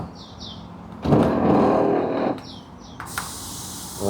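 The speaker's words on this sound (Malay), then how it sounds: "Ada dengar bunyi motor dan tingkap memang tak naik lah." A Zeekr 7X power window motor whirs for about a second and a half while the window fails to rise; the strain is heard close up inside the car, with a shorter click-like burst following.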